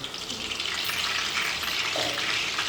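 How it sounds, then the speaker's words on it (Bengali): Potatoes frying in hot oil in a home kitchen, a steady close sizzle that runs unbroken for about three seconds with no talking. "প্রথমে আমরা আলুটা ভেজে নেব ভালো করে।"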